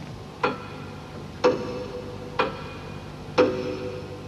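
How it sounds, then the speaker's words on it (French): A pendulum clock ticks loudly and slowly in a quiet room, four sharp, evenly spaced ticks about one second apart, close and alone with no voices. "Oh, cette pendule. Un vrai marteau-piqueur."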